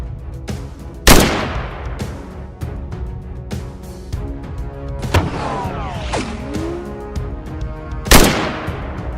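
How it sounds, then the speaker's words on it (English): Hunting rifles fire at wild boars on open plains. Two sharp, loud gunshots ring out several seconds apart and echo, with rustling, clicks and scattered handling noise between them. "I immediately fired, taking down one boar, while my teammate simultaneously dropped the other."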